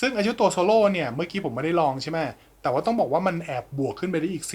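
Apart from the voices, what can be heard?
No distinct noise like a dog, phone or traffic.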